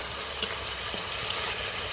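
A spice paste of ginger and tomato sautés in a pan with a steady close sizzle, broken by a few light stirring scrapes.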